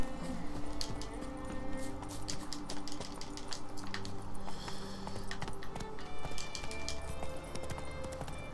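Hooves of the horse Roach in The Witcher 3 game, a steady rapid clip-clop of a gallop running throughout at moderate level, with faint music and ambience underneath.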